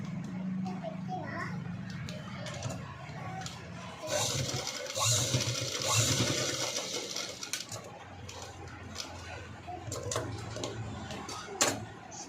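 A sewing machine stitches the lining of a blouse, a rapid mechanical whirring and clicking that runs under a voice, swelling louder in the middle of the stretch before easing off.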